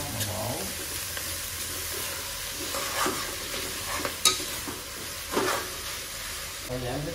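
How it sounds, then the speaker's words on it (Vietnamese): Oyster mushrooms stir-fried in a hot pan, with steady sizzling and scraping stirs close by across the clip, a few sharper clinks of utensil on pan, no talking. "em sẽ cho cái nấm vô nha. Nấm bầu ngư. Xào cho nó săn nóng cho thơm thôi"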